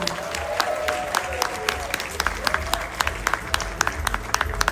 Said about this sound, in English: A warm round of applause for Mr. Michael Guevara